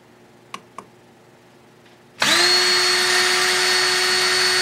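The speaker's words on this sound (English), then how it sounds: "let's take a look at what it looks like when we use a drill." A couple of faint clicks, then an electric drill whirs up abruptly and keeps spinning at a steady, loud high-pitched whine.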